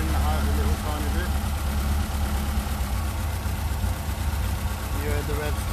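A four-cylinder engine with twin Weber/Dellorto DCOE/DHLA carburettors idles with a steady low hum while the revs drop slightly, heard under people talking nearby.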